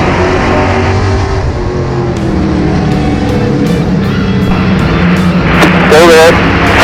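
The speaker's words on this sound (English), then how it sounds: "Racing, green flag, super stock, heat race number 2." Super stock race cars at Delaware Speedway during a green-flag heat race, engines roaring and droning loudly as cars pass, while a voice talks over the steady engine noise.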